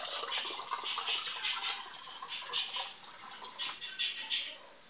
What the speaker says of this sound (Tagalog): Lalagyan po natin ng konting tubig.